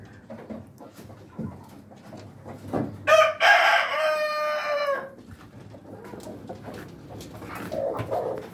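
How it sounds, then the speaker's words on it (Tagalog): A Rhode Island Red rooster crows once, loud and fairly close, among eight-month-old breeder hens, with soft clucking and farm noise around it. "Anim sila lahat dito mga kabi farming. Isang rooster natin."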